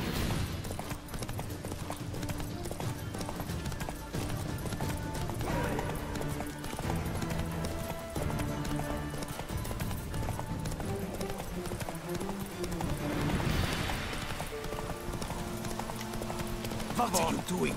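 Roach, Geralt's horse in The Witcher 3, gallops with steady rapid hoofbeats close up, running under dense game music and sound effects, with voices present at times.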